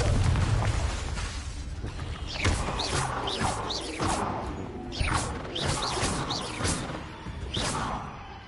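In the Hogwarts Legacy video game, Confringo spell blasts crash and burst repeatedly amid a dense, loud wash of combat effects, with sharp impacts recurring every second or so over a rumbling background.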